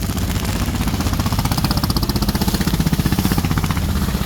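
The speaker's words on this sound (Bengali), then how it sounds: "পেছন থেকে ট্রলার চলে যাচ্ছে।" A passing motor trawler boat's chugging engine with a steady rapid throb, loud and close, running continuously with no voices.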